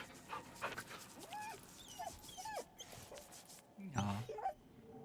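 A dog in the video game Baldur's Gate whimpers and pants, giving short high whines in a quiet, close scene. Soft breathy pants and small thumps sit between the whines.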